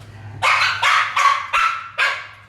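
A dog barks loudly and close by, giving five sharp, evenly spaced barks about half a second apart, alone with no talk.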